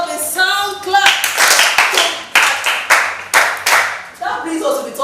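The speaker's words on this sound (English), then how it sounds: "Please give yourself a sound clap." A class of schoolchildren claps in rhythmic bursts of sharp, close hand claps, several rounds in quick succession, with a voice heard at the start.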